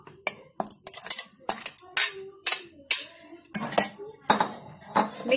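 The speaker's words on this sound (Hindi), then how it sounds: "इन चनों को वापस कुकर में डाल दे रहे हैं।" Mashed chickpeas being spooned back into a pressure cooker for chana masala, a steady series of close metal spoon scrapes and clinks against the cooker rim, sounding roughly every half second with no talking.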